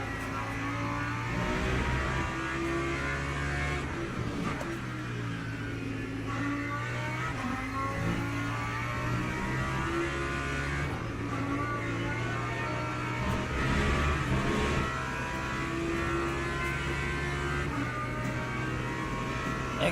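Engine drone of an LMP2 prototype race car in the sim racing game Le Mans Ultimate, multiclass racing at Spa, steady and loud throughout with shifting engine pitch as cars close in and pass.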